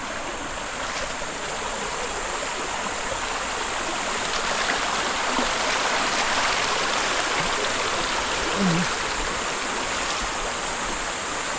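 Steady rushing of a flowing river, a continuous broadband wash of water that stays even and close throughout, with no voices.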